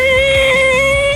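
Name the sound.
ear-piercing squeal of an ungreased linkage pin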